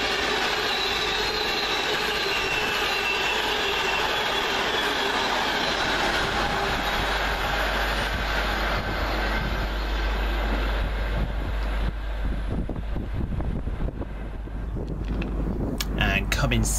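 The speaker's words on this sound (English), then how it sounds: "And how nice of that rail tour to slow down this Pendolino." Class 390 Pendolino train moving through Rugeley Trent Valley station, a loud continuous rumble and rush of wheels on rail from close by, with rhythmic clattering building toward the end; a voice talks over it.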